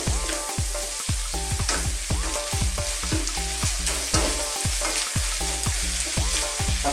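Garlic shrimp fries in butter while being stirred, a continuous close sizzle punctuated by rapid rhythmic knocks and scrapes of a utensil against the pan, with no talk.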